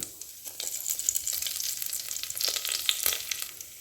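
Fenugreek, cumin and dried chillies sizzle and crackle in hot oil, a close, busy frying hiss with scattered pops and a brief stir partway through.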